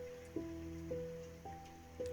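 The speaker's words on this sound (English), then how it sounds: "It's nice to be out and away from the rain." Steady rain falls outside in a VRChat horror map, a soft continuous wash in the background, with a few faint tonal notes of game music or ambience drifting over it and no voices.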